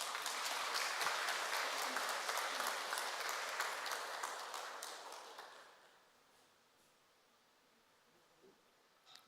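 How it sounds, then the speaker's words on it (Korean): A temple congregation at a Won Buddhist Sunday dharma service claps together, dense applause that stays loud for about five seconds and then fades out into quiet room tone. "박수 한번 치세요."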